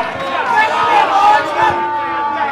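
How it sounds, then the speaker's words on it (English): Rugby league crowd at a Cudgen versus Casino match, a broad murmur of disputing voices swelling and easing under close commentary talk. "The crowd, you can hear the crowd are disputing it."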